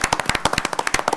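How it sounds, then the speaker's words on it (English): A handful of people at a county board of supervisors meeting clap in a quick, close, sharp round of applause, individual hand claps distinct and irregular, with no talking. "I would just ask everyone if you could join me in a quick round of applause to recognize these"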